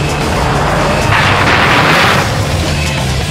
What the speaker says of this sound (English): hear the engine popping and banging like rifle fire